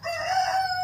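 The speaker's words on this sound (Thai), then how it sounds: "เสียงไก่นะมีเพื่อนด้วยมีเพื่อนไก่ด้วยนะ" A rooster crows once, close and loud, in a single sustained, strained call lasting under a second.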